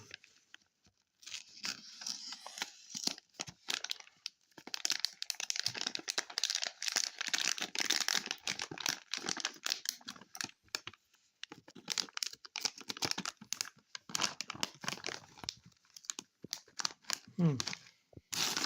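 A package of Polish Magnetic chocolate-covered peanut candies is torn open, giving close crinkling and tearing of a plastic wrapper in bursts with pauses and brief talk near the end.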